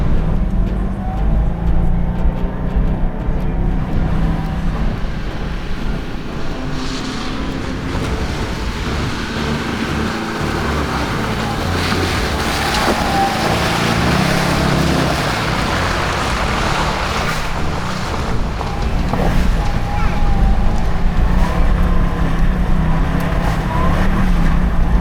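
A Toyota Tundra fitted with a Magnuson supercharger is driven hard off-road, its engine roaring loudly and steadily for the whole stretch, with rushing, rumbling noise from the terrain underneath.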